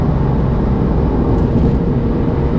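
A 2009 Porsche 911 Carrera S (997.2) with straight pipe headers drives along, a loud, steady, low engine drone with exhaust rumble heard from inside the car, continuous and close.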